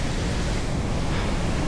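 Powerful waterfall roaring nearby in the mountains around Sankt Gallenkirch in Austria, a dense, steady broadband rush filling the whole clip with a deep low rumble and no voices.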